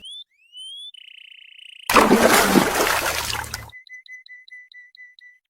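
A cartoon crow drops from a boat into the sea with a loud, roughly two-second splashing burst, framed by bright electronic sound-effect tones before and after.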